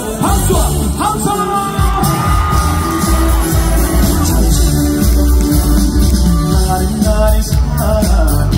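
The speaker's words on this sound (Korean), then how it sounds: "마지막으로 온 힘을 다해서 박수와 함성!" A large outdoor festival crowd claps and cheers with full force at a lantern festival concert in Incheon, a dense, loud, sustained roar of applause, whoops and yells with no gaps.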